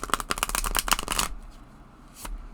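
A Fearless Familiars oracle card deck is riffled and shuffled close up in a rapid burst of crisp card flutters, then goes quiet except for one brief final tap.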